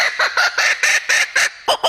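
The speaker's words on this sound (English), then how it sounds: "He is called a laughing kookaburra." A laughing kookaburra gives its territorial call, a rapid series of loud, raucous cackling bursts in a steady rhythm, heard close and clear with no talk over it.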